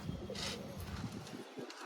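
A Giribaz pigeon from a breeding pair sitting on eggs gives soft, close cooing, low and fairly quiet, with no voices.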